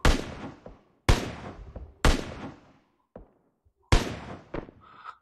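Four loud, sharp gunshots in PUBG Mobile ring out about a second apart, each followed by a decaying echo, along with a few fainter clicks and pops.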